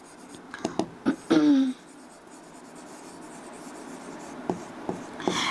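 Chalk or marker scratching on a board in a chemistry classroom: a few short, close scrapes and strokes in the first two seconds, then quieter scattered taps and strokes over low room noise, with a soft voice in the background.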